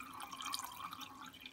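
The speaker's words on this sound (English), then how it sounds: "fill the pot with boiling water from the kettle" Boiling water poured from a kettle into a pot holding a trivet for steaming dim sum, a steady close trickle and splash of liquid filling the pot, with no talk.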